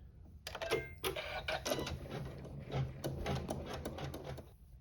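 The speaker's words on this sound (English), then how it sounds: "we will sew our satin stitch" A sewing machine sews a satin stitch across quilt fabric, a close, rapid mechanical whirring and clatter running throughout with uneven bursts.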